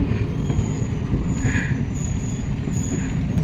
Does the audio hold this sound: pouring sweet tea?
no